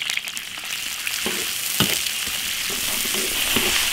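Chili paste, pickled peppers, ginger, garlic and seasonings sizzle and fry in hot oil in a large iron wok over a wood-fired stove, a steady loud crackle with occasional scraping stir strokes and no voices.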